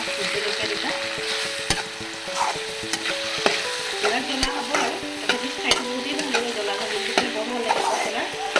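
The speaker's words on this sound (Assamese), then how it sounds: "পচলাটো ইমান ধুনীয়াকৈ সিজি আছে" Banana stem curry with fish head cooks in a pan, sizzling steadily while a utensil stirs and scrapes with irregular clicks and knocks, close up and without talk.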